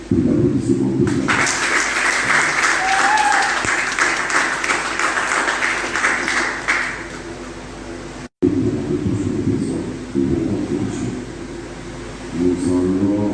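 Applause from the audience at an association's general assembly in a cultural centre rises as broadband clapping for several seconds, drops briefly, then gives way to voices talking with a few scattered claps afterward.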